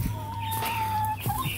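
Backyard hens clucking close up, a short burst of a drawn-out cluck followed by a couple of quick sharper notes, loud and clear against quiet farm surroundings.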